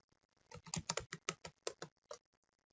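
Keys on a computer keyboard tapped while typing into an Excel spreadsheet: a quick, uneven run of about a dozen crisp clicks, fairly quiet and close, with no talking.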